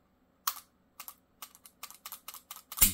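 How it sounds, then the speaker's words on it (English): A series of sharp plastic clicks from an HK VP9 pistol trigger being released and reset, about eleven in a quick uneven run, close and crisp, ending in a louder, heavier snap. "Listen to me when I release the trigger."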